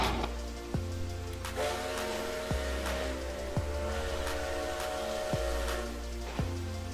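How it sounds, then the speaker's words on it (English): A steam locomotive whistle in the train game Rails Unlimited Classic sounds as one long, sustained tone held for several seconds over a steady engine rumble broken by periodic low thumps. "Alright, that's the whistle."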